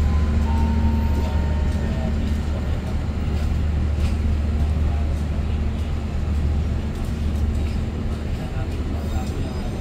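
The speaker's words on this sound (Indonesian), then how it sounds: "ini masuk Langsiran nih kereta api Argo Bromo Anggrek dari Surabaya Pasar Turi tujuan akhir Gambir" Argo Bromo Anggrek passenger train from Surabaya Pasar Turi to Gambir rumbling steadily and loudly through a station yard, with a continuous low drone and wheel noise from start to finish.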